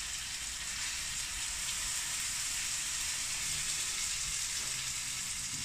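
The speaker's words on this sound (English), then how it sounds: "Sizzling off nicely." Food frying in a hot pan with the heat just switched off gives a steady, even sizzle and crackle that holds at close range throughout, alone with no voices over it.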